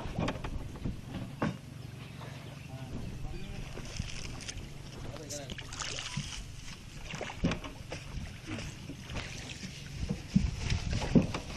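Boat ride on a river to a homestay, with a steady low engine or hull rumble, wind buffeting and splashing water, while people talk intermittently nearby.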